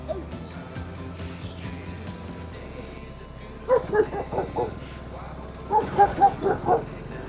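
A village dog near Hampi barks in two short clusters of sharp, yappy barks at moderate distance. People talk and an outdoor background hum runs beneath it.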